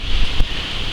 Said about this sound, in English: Excuse the windy noise, a bit of a breeze here at the moment